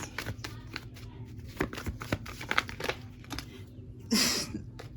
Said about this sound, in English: I'm not really shuffling like the way I want to shuffle.